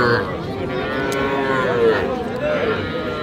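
Several heifer and bull calves moo and bawl at once at the Aftabganj cattle market, overlapping drawn-out calls close by, with a busy crowd murmur underneath.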